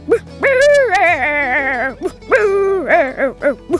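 A seven-year-old boy imitates a dog with his voice, giving a long drawn-out howl followed by several shorter yelping barks, loud and close.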